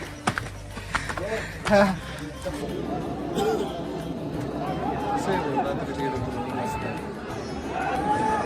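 Late-night crowd of pilgrims at Jejuri temple during Mahashivratri, a continuous murmur of many voices and shuffling feet with a few louder knocks early on, moderately close.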